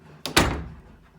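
A pre-hung door swings shut with a quick double impact, a light tap then a louder solid thud that rings briefly, close by and with no talking.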